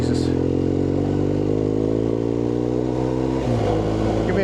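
A motorbike rides past on a Scottish Borders road, a loud steady engine drone with layered harmonics that shifts pitch near the end as it passes close by.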